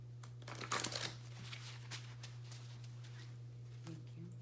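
A deck of tarot cards is shuffled in one short, close, rustling burst, followed by quiet room tone with a steady low hum.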